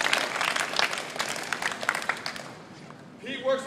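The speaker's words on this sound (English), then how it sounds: "Give him a round of applause." A crowd's round of applause for a young basketball player bound for Princeton rings out full, then tapers away after a couple of seconds, and a voice begins speaking as it dies out.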